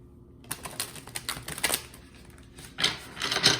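Soft papery riffling and tapping of tarot cards being shuffled, in several quick bursts close by, with no talking.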